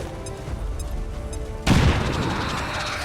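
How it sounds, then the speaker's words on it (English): A grenade detonates in XCOM 2: War of the Chosen, a sudden loud boom after a stretch of low game ambience, followed by a rumbling, crackling decay. "take out this sectoid with a grenade"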